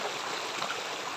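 Small forest stream flowing over rocks, a steady close rushing and babbling wash of water, continuous and even, with no voices.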